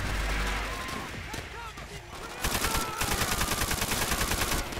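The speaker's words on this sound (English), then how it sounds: "Are you like tapping your trigger with this LMG?" Light machine gun fire in the World at War video game, with short tapped bursts giving way to a dense rapid rattle of shots in the second half, close and loud, with players talking over it.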